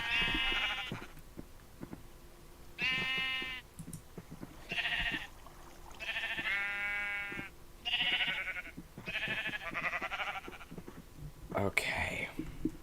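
Sheep in the Minecraft mod Create give loud, repeated bleats, several harmonic cries in quick succession with short gaps between them, while a soft voice talks under the calls.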